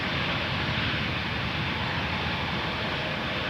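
Airliner engines roar steadily at Toronto Pearson Airport, a dense continuous rumble with no breaks and no voices.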